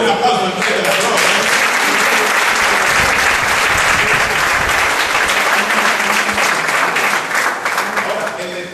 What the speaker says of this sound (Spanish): Le doy un aplauso al Rey de la Gloria.